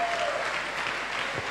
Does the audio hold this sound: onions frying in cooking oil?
no